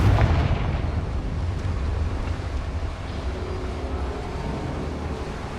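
A Confringo explosion spell bursts in a Harry Potter video game, starting with a loud low blast that settles into a sustained rumbling roar and fades slightly over several seconds.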